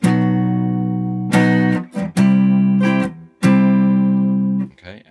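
A guitar barre chord strummed roughly, ringing out in three sustained, somewhat buzzy strums separated by short gaps, loud and close with no talking.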